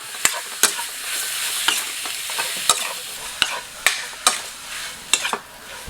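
Beef is stirred into Thai curry paste frying in a pan for beef kaeng om, with a steady sizzle and regular sharp scrapes and knocks of a utensil against the pan, close and clear, with no talking.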